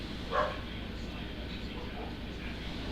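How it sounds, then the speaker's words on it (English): A dog gives one short, distant bark early on, then stays quiet over a steady low background hum and faint room noise. "I hear a dog."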